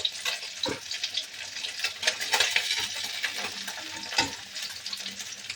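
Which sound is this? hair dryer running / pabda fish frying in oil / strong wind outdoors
pabda fish frying in oil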